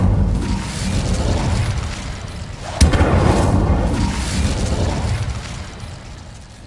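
Fiery spell in a Hogwarts Legacy game battle: a sustained roaring, rumbling burst with a sharp impact crack partway through, loud and close over a dense background of game effects.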